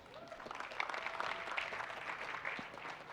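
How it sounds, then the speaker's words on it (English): Audience applause at a fintech pitch competition, a steady even wash of clapping held at moderate level for about three seconds with no talk over it. "So everybody, please give them a big round of applause."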